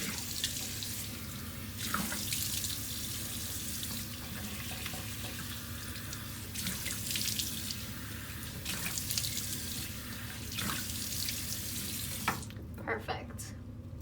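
A tap runs steadily into a sink while a face is rinsed during a nighttime skincare routine, a close continuous splashing rush with small surges from hands in the water, then the flow stops near the end.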